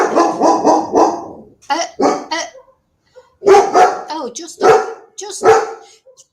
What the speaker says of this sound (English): Just on cue, a dog starts barking outside